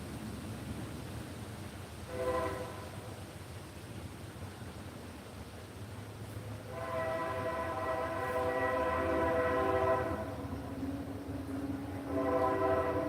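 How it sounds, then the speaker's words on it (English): A train passing, heard as a continuous low rumble of rolling cars with a few bursts of a horn or whistle-like tone swelling and fading, moderately distant and without speech. "Ooh, ASMR train. Let's listen."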